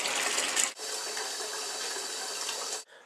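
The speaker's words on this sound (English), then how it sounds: "So the very first step is rinsing the rock." Tap water gushes steadily into a sink as rock is rinsed clean for a homemade aquaponics fish tank, close and continuous, with a brief pause before it resumes and then cuts off.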